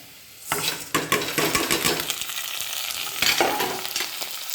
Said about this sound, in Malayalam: അരി എണ്ണയിലൊന്ന് നന്നായിട്ട് വറുത്ത്